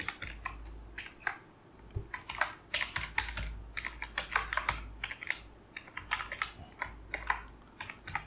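Fast, close typing on a computer keyboard while entering HTML code, a dense irregular patter of crisp key clicks lasting the whole stretch with no speech.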